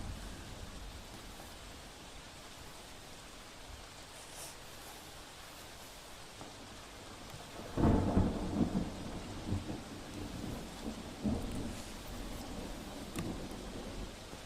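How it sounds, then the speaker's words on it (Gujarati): Heavy rain pours over Mahuva town in Bhavnagar, a steady hiss of rainfall, joined midway by a loud, rumbling thunderclap and more rolling thunder afterward. "ભાવનગરના મહુવા શહેર અને ગ્રામ્ય વિસ્તારમાં વરસાદ થઈ રહ્યો છે।"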